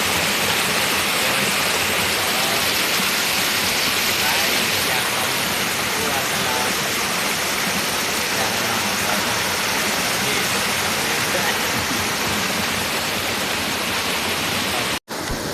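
Steady rain falls outside a shelter during a forest trek, a continuous broadband hiss that holds at an even, fairly loud level throughout, briefly cut off near the end.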